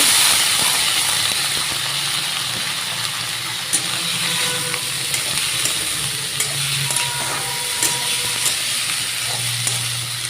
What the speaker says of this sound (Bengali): এখন দিয়ে দিব সবজিগুলা, মশলা কম করে দিয়ে ভাজবো।